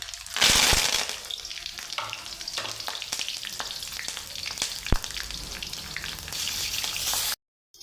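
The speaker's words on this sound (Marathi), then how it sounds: "दोन हिरव्या मिरच्या आहेत कढीपत्ता आहे आणि जिरा आहे हे देखील मी फोडणीमध्ये घालतो" Dense, steady sizzle of green chillies, curry leaves and cumin frying in hot oil, with a loud crackling burst near the start and occasional sharp pops before it cuts off.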